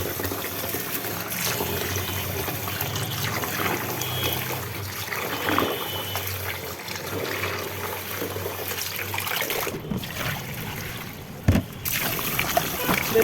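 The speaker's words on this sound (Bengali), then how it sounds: "যেহেতু বাজারের চাল পাবেন না, চালটাকে ভালো করে ধুয়ে নিচ্ছি।" Rice being washed in water for biryani, with steady running and sloshing water heard close for most of the clip before it cuts off and a few small knocks follow.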